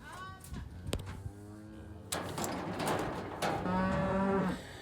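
Calves low and moo in a cattle chute during spring vaccination work, with several drawn-out calls, some close and some further off, over clanks and general farmyard noise.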